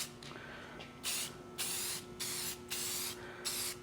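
Short bursts of Rust-Oleum 2X Ultra Cover Gloss spray paint hissing from an aerosol can, five or six separate sprays of about half a second each with brief pauses between, close and fairly loud over a steady background hum.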